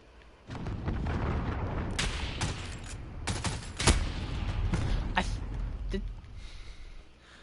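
Retinetti burst-fire rifle in Call of Duty: Modern Warfare shooting in quick bursts of three amid a loud, rumbling firefight with booms, the clatter fading out near the end.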